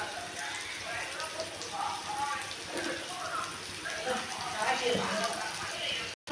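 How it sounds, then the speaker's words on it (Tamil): Finely chopped onions fry in hot oil in a pan: a dense, steady sizzle and crackle heard up close, continuous throughout and cutting off suddenly at the end. "இப்போ வந்து நம்ம பொடிசாக கட் பண்ணி வச்சுருக்கிற வெங்காயத்தை இதில் போட்டுக்கலாம்"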